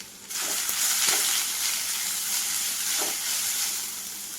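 Dried red chillies, curry leaves and crushed coconut mix frying in a thin wok, a steady close hiss of sizzling oil starting abruptly, with a few faint scrapes of stirring.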